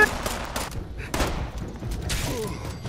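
Fallout 76 gunfire: a rapid volley of sharp shots in several bursts, loud and close, with thuds mixed in and brief shouting voices.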